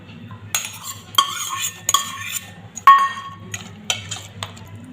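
Dry fruits are tossed into a pan for jaggery vermicelli payasa and stirred with a metal spoon, giving close, sharp clinks and scrapes in irregular bursts over a low background hum.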